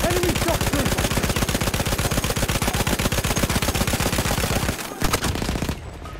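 Rapid automatic gunfire rattles nonstop in Battlefield 1 multiplayer, loud and dense for about five seconds before a short break and a few final bursts.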